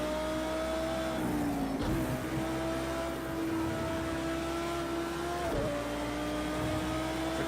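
A race car engine in the Project Cars 2 racing game holds a steady high tone, then dips and climbs again twice during downshifts and braking, a continuous loud drone with no talk.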